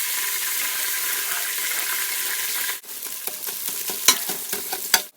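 Whole fenugreek seeds, three tablespoons, fry in a hot pan of soup base with a steady loud sizzle. Sharp little pops and clicks break through, growing more prominent as the sizzle drops away.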